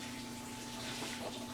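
Water being poured and mixed with sausage cure ingredients, brown sugar and curing salt, in a quart of water for honey, pork and venison smoked sausage; a steady, close rushing and trickling wash that runs alone without pause.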